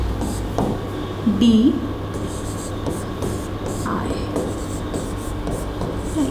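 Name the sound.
writing on a board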